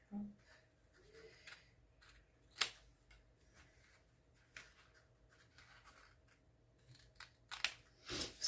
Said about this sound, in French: Donc, il faut le faire avec le ciseau.